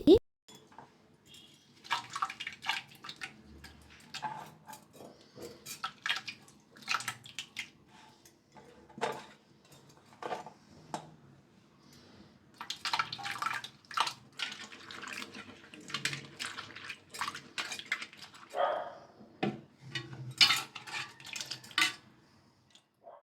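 Cut potato pieces are washed in water in a home kitchen: scattered clinks of a bowl or utensils, sloshing and splashing in irregular bursts, close by and moderately loud.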